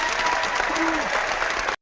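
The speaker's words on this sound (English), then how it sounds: "So I'm going to give a little round of applause." Brief, fairly quiet applause from an audience at a talk on organizing the mind, a continuous patter that cuts off abruptly at the end.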